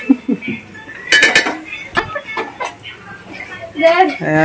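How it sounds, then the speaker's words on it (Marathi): Utensils, dishes and pots clatter in a busy home kitchen during preparations for a naming ceremony, with bursts of metallic clinks and clanks between quiet moments and voices talking nearby. "भांडी लावते।"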